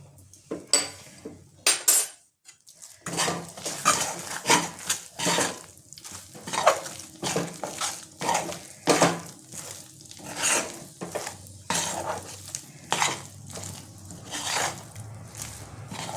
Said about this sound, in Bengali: এটা আমি ভালো করে এবার নেড়ে নেব।